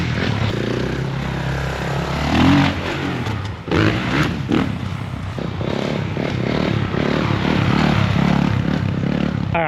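Dirt bike engine revving loud and close as it is ridden, a continuous rough buzzing drone that swells and dips with throttle changes, briefly easing off midway before pulling hard again.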